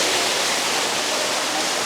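Steady, loud, broadband rushing of a waterfall splashing inside a botanical garden conservatory, heard up close as a constant wash of water with no pauses.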